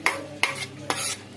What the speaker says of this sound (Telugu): ఇప్పుడు ఆ పప్పు వేసుకుందాం.